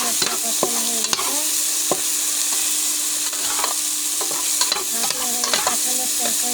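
Spices frying in a pan for a vegetarian jackfruit curry, stirred with a spatula: a constant close sizzle with repeated scraping strokes and light knocks against the pan, loud and without talk.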